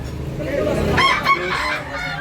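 A talisayo gamecock rooster crows once near the recording, a medium-sized bird among others in a Cebu setting, its call rising loud over a busy background with some voices.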